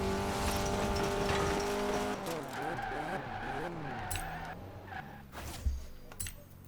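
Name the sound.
car driving in Forza Horizon 4 video game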